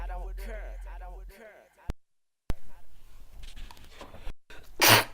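A single loud, close sneeze from an allergy attack bursts out near the end, after speech and a brief silent gap.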